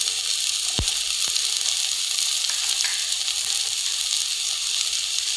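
Steady, loud sizzle of carrot frying with onion and tomato in a hot pan, a continuous bright hiss filling the whole stretch, with a sharp drop-in thump near the start and faint stirring knocks.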